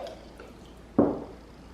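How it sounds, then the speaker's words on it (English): Sauce squelches once from a bottle into a container, a short, moist splat in a quiet kitchen, with no talking. "Take each bottle and pour it into a container."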